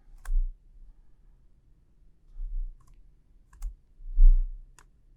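Several separate clicks of typing on a computer keyboard, roughly four short bursts spread over a few seconds in a quiet room, close and fairly soft, with no talking.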